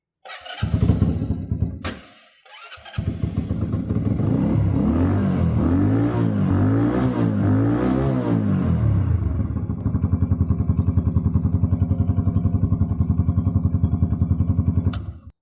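A 72cc big bore kit motorcycle, a carbureted Yamaha YM50RE, cranks a couple of times, fires up and revs with rising and falling engine pitch, then settles into a steady, close, loud idle clatter.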